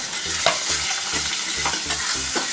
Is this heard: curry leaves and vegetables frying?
yes